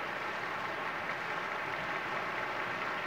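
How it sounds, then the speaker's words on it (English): Steady, dense audience applause for the National Symphony Orchestra in Constitution Hall, a continuous even wash of many hands clapping at a constant level, heard from within the hall. "asked all the members of the National Symphony Orchestra to join him in accepting the applause of the audience here at Constitution Hall"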